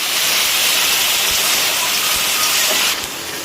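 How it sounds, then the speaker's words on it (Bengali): Water splashed into taro curry frying with ginger-garlic paste gives a loud, steady steam hiss that fills the pan for about three seconds, then drops off sharply near the end; no one speaks. "দিয়ে দিলাম একটু জল।"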